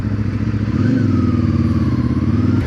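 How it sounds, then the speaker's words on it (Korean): A CFMOTO 450MT motorcycle's 450 engine rumbles steadily and pulls away from a start on the road, its low drone rising smoothly with the throttle, close and loud throughout. "지금 소리로도 들으시겠지만 스로틀을 당겼을 때 처음 출발할 때 이 450 엔진 특성이"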